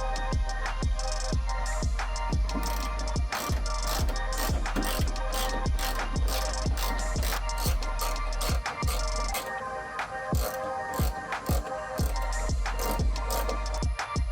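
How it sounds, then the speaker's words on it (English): A ratchet drives screws back into the third brake light of a 2002 Toyota MR2 Spyder, giving close, crisp bursts of rapid clicking repeated steadily throughout, with no talking. "I suggest you use a ratchet or a screwdriver. That way you don't over torque them and break them. So I'll be using a ratchet"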